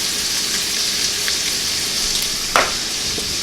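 Food toasting in a hot pan for red beans and rice stuffed peppers, a steady loud sizzle with a brief clink or stir near the end.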